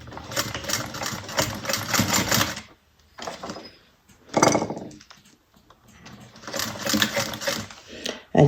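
A sewing machine stitches across folded fabric in several close bursts of rapid mechanical chatter, separated by pauses, with a short buzzing run in the middle.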